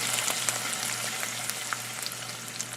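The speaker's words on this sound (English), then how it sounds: "I'll just flip these over and let them fry a little bit" Sliced potatoes fry in a frying pan with a steady, close crackling sizzle and scattered pops, with no talking over it.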